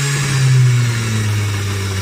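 A car alternator rated 12 volts and 65 amps, converted into a brushless motor with speed and torque control, runs with a steady droning hum and whine, close and continuous, with a slight pitch drop partway through.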